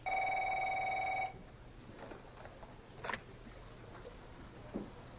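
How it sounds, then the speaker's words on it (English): A telephone rings in a film scene set in an office: one steady electronic ring tone lasting about a second, then faint room noise and soft rustling. "here's the phone call"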